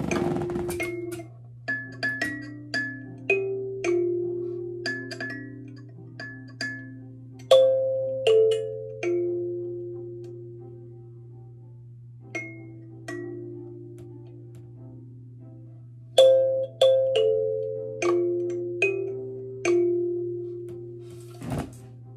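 A melody of plucked kalimba tines plays Happy Birthday alone, each note ringing and decaying in a steady phrased rhythm over a constant low hum, loud and close.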